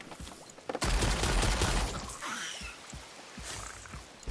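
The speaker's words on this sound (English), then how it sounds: "you know exactly where the explosion is going to" Rapid explosions and bursts fire off in the video game Lost Ark, a dense crackling barrage that surges loudly then continues in scattered softer pops.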